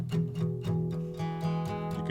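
Acoustic guitar strummed with the palm resting too far over the bridge, giving a choked, muted staccato: about four short damped chord hits, each quickly cut off, played alone and fairly close.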